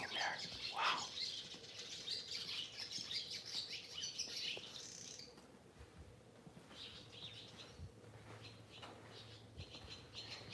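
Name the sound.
birds chirping around nests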